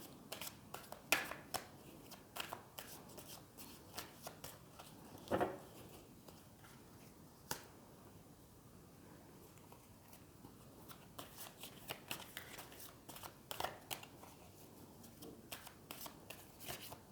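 Playing cards are shuffled continuously at a soft, close level, a rapid patter of riffles and flicks.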